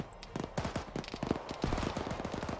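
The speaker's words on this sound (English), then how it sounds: "Yeah, freaking machine gunner." Rapid, dense bursts of machine gun fire from the Arma 3 combat game, with close cracks repeating steadily through a continuous battle mix.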